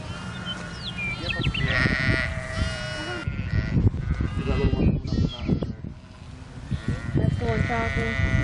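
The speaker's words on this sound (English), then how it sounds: "We're just stopping to look at the sheep." Sheep bleat repeatedly at close range, the calls overlapping with people talking nearby.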